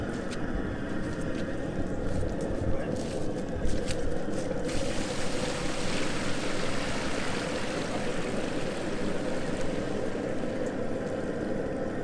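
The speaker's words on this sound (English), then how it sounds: "So we're going to go ahead and start rinsing these." Live crawfish being rinsed for a crawfish boil, with water running in a continuous, fairly loud rushing hiss that holds steady over the whole stretch, with no talk.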